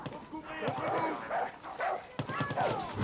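A dog companion in the video game Far Cry 6 barks and yelps under attack, several short sharp barks in quick bursts at mid-distance amid game noise.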